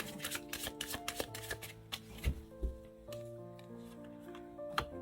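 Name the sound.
tarot cards being handled and laid out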